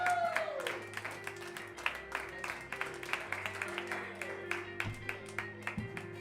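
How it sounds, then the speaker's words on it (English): Audience applause and clapping for a comedian at a late-night comedy show, a steady spread of claps with crowd noise underneath and a low background hum throughout. "start clapping right now for your next comic"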